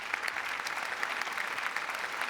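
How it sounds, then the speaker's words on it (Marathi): Strong, steady applause from a live studio audience at a Marathi comedy show, dense clapping filling the whole stretch without a break and with no talk over it. "असं त्यांच्याबद्दल जोरदार टाळ्या झाल्या पाहिजेत"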